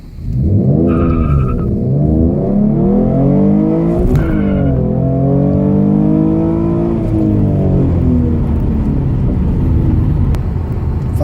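A tuned Ford Mustang launches hard and accelerates through several gears to 60 mph, a loud close engine roar that climbs in pitch, drops briefly at each shift, then climbs again, with a little tyre noise at the start.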